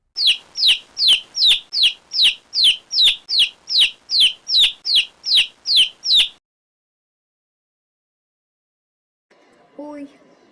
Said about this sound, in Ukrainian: Цыплята